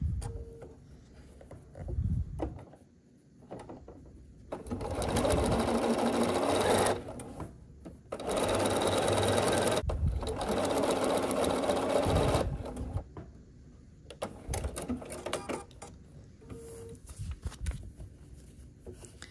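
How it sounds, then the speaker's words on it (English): A sewing machine stitches along the seam line between quilt pieces for a foundation paper-pieced star block, running in several bursts of steady, close-up whirring separated by short pauses and quiet handling. "we're gonna sew here on the line between C1 and C2"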